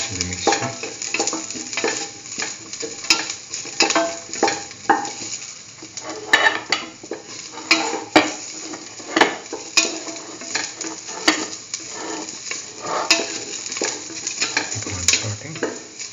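Green chillies sauté in a pan with a steady sizzle, while a utensil stirs and scrapes against the pan in repeated close clicks and knocks.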